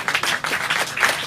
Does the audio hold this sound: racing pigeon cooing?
no